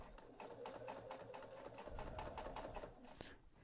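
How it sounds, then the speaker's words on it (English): Sewing machine top stitching around the edge of a quilted fabric microwave bowl cozy, a steady rapid mechanical needle rhythm running throughout at close range, with no talking. "Now I'm just going to go and top stitch all the way around."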